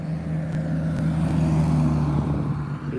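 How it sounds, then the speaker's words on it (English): Fire truck driving past on a city street, a loud steady engine rumble with a low droning tone that holds close by for several seconds before easing off. "There's the fire truck."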